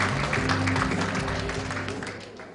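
A crowd applauds at an inauguration ceremony of a Korean horse industry association, a dense, even patter of clapping that holds steady throughout, with a low hum underneath.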